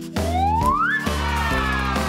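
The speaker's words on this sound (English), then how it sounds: "That's a monkey!" A cartoon monkey call in an animal guessing game, a rising whooping cry over a steady, bouncy music backing, loud and close.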